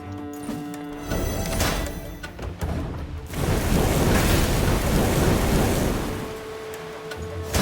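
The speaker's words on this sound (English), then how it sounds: "The storm is coming." Thunder rolls and rain and wind rush in a thunderstorm in the video game Thronebreaker, a dense, surging roar that builds and lingers for several seconds.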